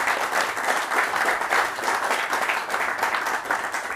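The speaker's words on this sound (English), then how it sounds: "maybe a little applause for the general for the render of his day" Steady applause from a symposium audience honoring a general, dense and continuous clapping throughout with no speech over it.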